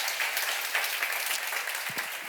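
Church congregation clapping together during a seminar, a brief, moderately soft burst of many hands applauding at an even level.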